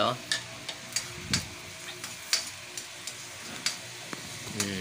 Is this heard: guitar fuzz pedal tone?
no